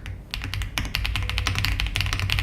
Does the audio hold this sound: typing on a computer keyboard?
yes